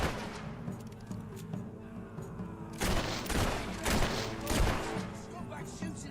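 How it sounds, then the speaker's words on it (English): Gunfire rattles in Fable III, first scattered shots and then a louder sustained burst of rapid overlapping bangs, close and intense, with voices talking during the fight. "Stop back shooting at us! Hey, it's not nice to play with guns."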